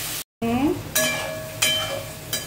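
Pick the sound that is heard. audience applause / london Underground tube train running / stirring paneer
stirring paneer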